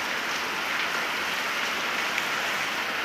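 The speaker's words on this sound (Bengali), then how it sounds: "তো বন্ধুরা, কেমন বৃষ্টি হচ্ছে।" Steady rain falling outdoors at a house, a dense, even hiss of drops on surfaces that holds constant throughout with no voices.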